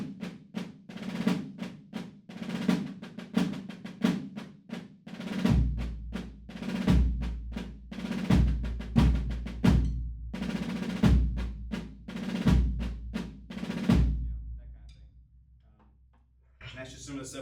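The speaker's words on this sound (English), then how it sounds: "We also have another super straightforward beating for marching our color guard around." Drummers from the United States Old Guard Fife & Drum Corps play a plain marching beat for a color guard: crisp, rapid snare patterns, joined partway through by regular deep bass drum strokes, before a short pause and a restart.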